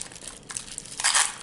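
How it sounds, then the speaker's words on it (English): Paper letters being fed through a Xyron sticker runner for card making, giving soft close crinkling and rustling that swells into a louder crunchy burst near the end, with no talking. "So I'm just going to stick my letters into the Xyron sticker runner as well."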